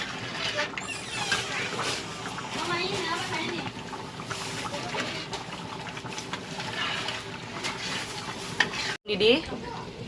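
A thick rendang spice paste bubbles and sizzles in a large wok while a utensil stirs and scrapes steadily, with a brief clatter near the end.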